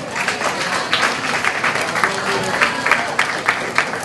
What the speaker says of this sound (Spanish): Un aplauso a la profesora de Historia y de Literatura de aquí